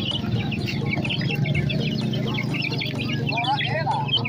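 Month-old BK broiler chicks at a poultry market in Sumpiuh chirp and cluck steadily in a dense chorus, close and continuous, while people talk over them throughout.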